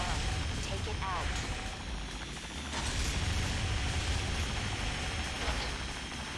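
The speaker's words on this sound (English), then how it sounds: "One of the helicopters touched down." A helicopter in the Armored Core 3 Silent Line video game gives off a steady, dense rotor and mechanical drone that fills the whole stretch, with clanking game effects layered over it and a voice in the mix.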